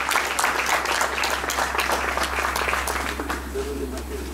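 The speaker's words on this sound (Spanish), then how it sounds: "El aplauso para nuestra quinceañera." A crowd applauds a quinceañera at her fifteenth birthday party, steady dense clapping throughout that thins slightly toward the end, with a low hum running underneath.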